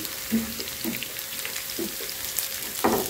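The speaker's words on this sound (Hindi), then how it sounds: "साथ ही हम तड़का लगाते हैं" Spices sizzling in hot oil for a dal tadka: cumin seeds, a bay leaf, cinnamon pieces and chillies crackle steadily in a home kitchen, with a few brief louder spits and stirring bursts over a constant frying hiss.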